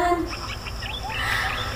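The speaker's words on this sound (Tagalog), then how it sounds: "Yung mga ibon nag-aawitan." Birds sing outdoors, with several short chirps and whistled tweets coming close together over a steady low background hum, fairly clear and near.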